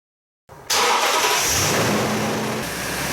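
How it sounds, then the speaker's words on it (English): A Toyota Tundra 5.7L V8 cranks and fires up, then settles into a steady, loud idle close by with no voices. "So while the truck's warming up,"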